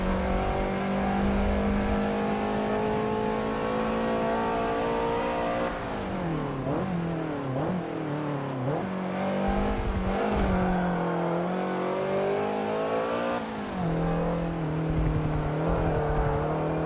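A Subaru BRZ engine in the Forza Motorsport 7 racing game drones steadily, rising and falling through several revs and gear changes with a whining tone. It stays loud and close throughout, with no talking.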